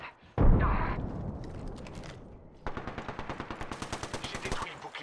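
In a video game shootout, a loud blast opens, then a rapid burst of automatic gunfire rattles on in quick, even repeats, close and sharp.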